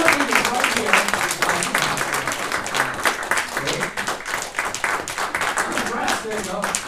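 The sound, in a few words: audience applause welcoming speaker Michael Merren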